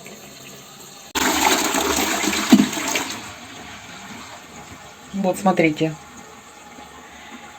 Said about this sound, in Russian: Сейчас посмотрим, как будет течь из унитаза.